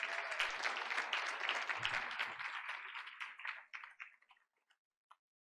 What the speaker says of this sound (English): Let's give Adrian a big round of applause.